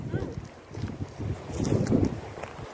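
Wind gusts and buffets outdoors near an icy lake in Alberta, Canada, rumbling against the microphone while people talk underneath.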